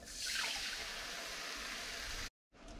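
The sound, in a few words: pouring a cup of water into a pan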